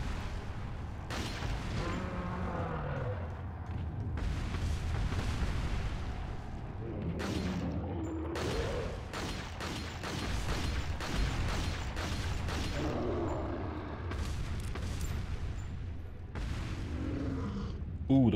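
Gunfire in a Resident Evil 4 game session, a rapid run of sharp bursts clustered mid-clip amid ongoing game sounds, with a person talking over it throughout.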